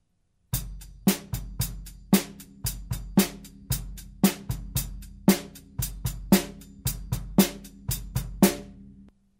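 Rock-style snare drum pattern played alone on a drum kit: a steady run of sharp, loud, close hits with bright crack and a low body, in a driving even rhythm with occasional accented strokes.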